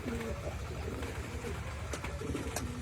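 Racing pigeons coo softly in low, repeated calls over a busy background, with a few brief clicks and flutters nearby.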